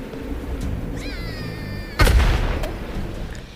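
A grenade explodes in the Worms video game, a sudden loud boom after a short rising whistle, with a game soundtrack underneath.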